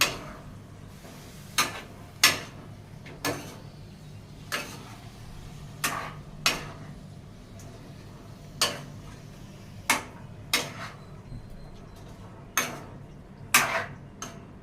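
A utensil stirs chicken curry in a pot, making sharp, quiet metallic clinks at irregular intervals over a low, steady background hum.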